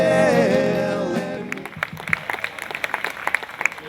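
A sustained sung or amplified note fades out, then scattered, sparse clapping follows from a rock concert crowd, with individual claps rising above the quieter background.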